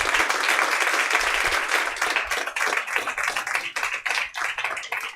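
A church congregation claps and applauds for a pastor, a dense burst of many hands that thins into scattered claps toward the end.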